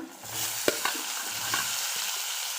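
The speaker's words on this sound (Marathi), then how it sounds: "मिरच्या छान तेलात भाजल्या गेलेल्या आहेत" Green chilies sizzle and fry in hot oil, a steady crackling hiss broken by a few clinks of a spoon stirring the pan, close and moderately loud.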